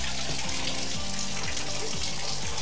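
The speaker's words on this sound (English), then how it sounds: "We want to turn the water on." A shower in single-soldier barracks housing is turned on, and water sprays in a loud, constant rush that fills the whole stretch, with no voices.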